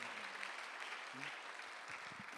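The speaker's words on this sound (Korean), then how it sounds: "박수" Steady applause from a church congregation at a Thanksgiving Sunday service in Korea, a dense wash of clapping that continues throughout at moderate level, with a few faint voices beneath it.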